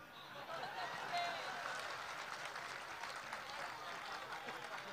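Audience applause at a Hindi comic poetry gathering, a soft, steady patter of clapping heard at a distance and fairly faint.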